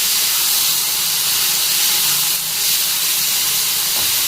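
Spices, onion, ginger and garlic sauté in oil in a pan for a moong dal dish, giving a steady, close, bright hiss of frying that runs unbroken without talk.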